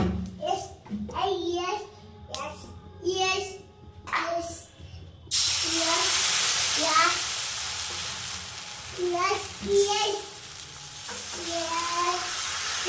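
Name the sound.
pitha batter frying in hot ghee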